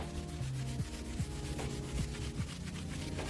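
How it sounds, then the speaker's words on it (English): Metal is scrubbed with metal polish under firm pressure, a close, rhythmic rasping rub with regular back-and-forth strokes, alone without talk. "So just scrubbing, pretty good pressure."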